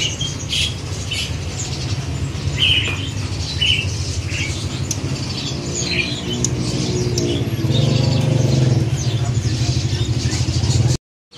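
Caged songbirds in a bird shop at a Palmerah bird market give short, sharp chirps and squawks in scattered bursts, set against a constant bed of traffic rumble, clatter and background chatter.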